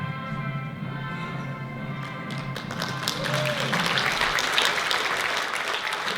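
Broad, steady applause from an audience at the end of a film screening swells and grows louder partway through, with a low hum and faint murmuring underneath.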